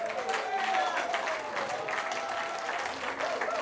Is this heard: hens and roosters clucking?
no